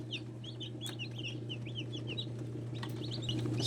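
Chickens and newly hatched chicks cluck and peep steadily at a hatchery, a dense chorus of high chirps over a constant low hum, with no talking.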